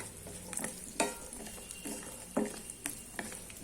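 Peeled white garlic roasting in a pan over a medium flame, a soft continuous sizzle broken by several sharp scraping stirs and clinks of a spatula against the pan, close and without talk.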